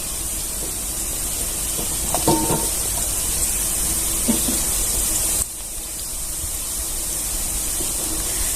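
Cashew wheat biscuits fry in oil over a low gas flame, giving a steady soft sizzle and hiss throughout with a few faint clinks, close and unbroken.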